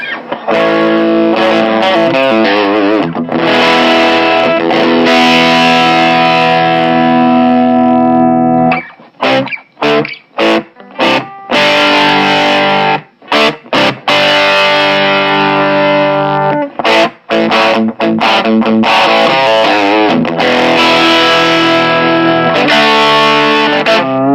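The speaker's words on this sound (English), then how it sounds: "All three are currently set to the LED distortion circuit, and here's how it sounds." Distorted electric guitar through a Tonal Insanity Niagra pedal set to its LED distortion circuit: thick, saturated chords and sustained notes, a few short pauses, loud and continuous with no talking.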